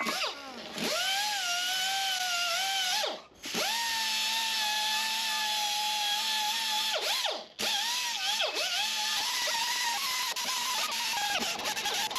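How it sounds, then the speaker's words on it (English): A roll lock disc grinds the mating surfaces of a 2JZ engine with a steady, high, close whine that dips briefly a few times as the tool lifts off and bites again. "Clean up these mating surfaces, which didn't all clean up. So for that, we can use a roll lock disc"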